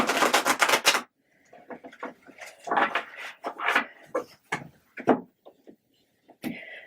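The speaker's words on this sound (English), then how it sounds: "it's just 2 cards and a quick shuffle here" Yule Tarot cards shuffle with a quick burst of rapid riffling flutters, then softer irregular card slides, taps and handling noises come close and quiet.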